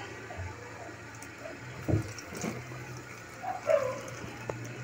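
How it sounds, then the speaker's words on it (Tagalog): A little water is poured onto sliced ripe bananas coated with sugar, giving two short splashy bursts with quiet kitchen background between them. "Tapos lalagyan natin ng kaunting tubig."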